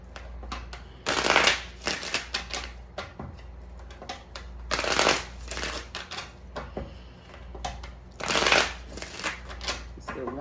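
Tarot cards being shuffled in repeated bursts of crisp riffling and flapping, with quieter handling sounds in between, close up.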